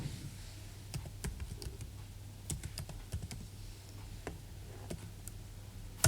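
Someone types on a computer keyboard with quiet, close clicks in an irregular rhythm of single taps and short runs, over a faint low hum.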